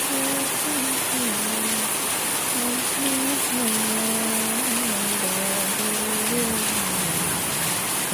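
Steady rain hissing throughout while a person talks over it at a moderate level.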